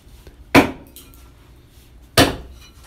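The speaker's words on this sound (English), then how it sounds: "Once the bulk material is removed, I can take my axe and start cleaning up." Two sharp, loud axe strikes about 1.6 seconds apart, each a hard woody chop against a rough timber slab being hewn and cleaned up, with quiet background between blows and no talking.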